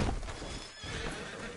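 A horse gives a short neigh close by, a brief whinny with a faint clop of hooves, fairly quiet overall.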